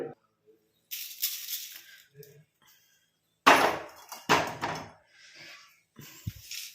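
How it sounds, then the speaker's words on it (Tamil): Roasted almonds and black cumin seeds are tipped out of a pan onto a plate, giving a few scattered rattling bursts of pouring and clinks separated by quiet pauses, close by. "நம்ம இதை ஒரு தட்டில் கொட்டி ஆற வச்சிடலாம்"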